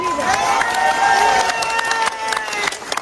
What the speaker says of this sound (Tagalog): Narinig lang nila yung dating Pangulong Rodrigo Roa Duterte pumalakpak